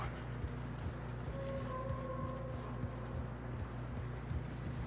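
Steady clip-clop of horse hooves in Red Dead Redemption 2 plodding at an even pace through snow over a constant low rumble, with a faint tonal hum rising briefly in the middle.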